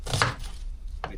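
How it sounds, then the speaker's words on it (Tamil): Onion and other vegetables chopped with a knife in a home kitchen, a couple of close, crisp cuts against a board, alone without talk. "வெங்காயம், தக்காளி, உருளைக்கிழங்கு, பூண்டு இது எல்லாத்தையும் வெட்டணும்."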